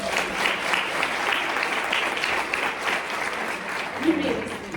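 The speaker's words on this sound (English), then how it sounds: "Give yourselves a round of applause." Audience applause at a storytelling event, a steady dense clapping that fills the room throughout, with some voices faintly mixed in.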